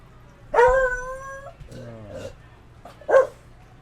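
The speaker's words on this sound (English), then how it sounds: "There you hear the dog ruining everything." A dog barks and whimpers in a room during a wrestling event, letting out a long yelping bark, a softer whine and then one more sharp bark. No voices are heard over it.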